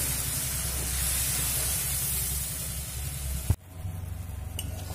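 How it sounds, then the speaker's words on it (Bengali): Spice paste with turmeric fries in a pan with a steady sizzling hiss, close and even, until an abrupt clunk cuts it to a quieter sizzle. "মশলাটা খুব সুন্দর করে কষিয়ে নেব"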